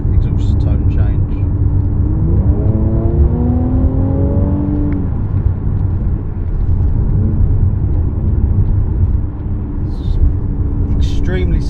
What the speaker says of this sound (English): You can probably hear that exhaust tone change.